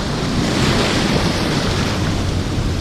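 Ocean waves break and wash steadily onto the shore of a Dungeness crabbing beach, a loud continuous roar of surf mixed with gusting wind noise, with no talking.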